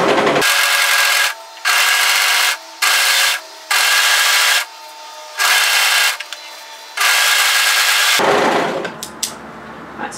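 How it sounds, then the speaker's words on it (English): An overlocker trims and finishes the raw edge of fabric in loud, close bursts of rapid mechanical whirring, several runs separated by short pauses, ending with fabric handling and small clicks. "So all I'm doing here is overlocking right on the raw edge just to trim off any stray threads"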